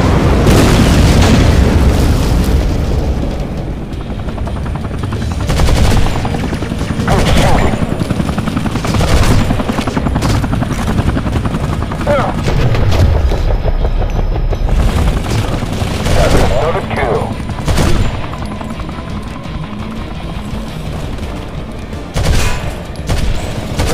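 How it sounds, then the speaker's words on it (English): A battlefield in Modern Combat 3: Fallen Nation during an airstrike, with heavy booming explosions and bursts of automatic gunfire rolling on loudly and continuously, while voices shout intermittently over the din. "Airstrike inbound."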